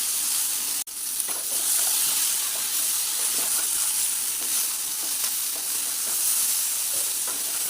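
Okra and drumstick stems fry in a pan with a steady, dense sizzle and hiss, close and continuous throughout, with faint stirring scrapes now and then and no talking.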